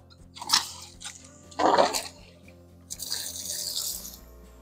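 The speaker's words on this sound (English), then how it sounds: "I'm just going to use the hose to wash it off." A garden hose sprays water over a clogged sprinkler filter outdoors, coming in uneven bursts of splashing and spattering that end in a steadier rush.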